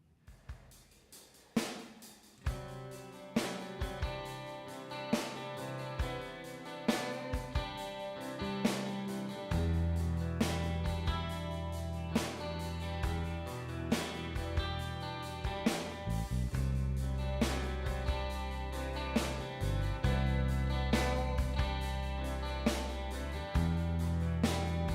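A song plays from a record: a full band arrangement with steady drum hits, sustained guitar and bass chords, and a heavier low end entering partway through, continuous and close with no talking.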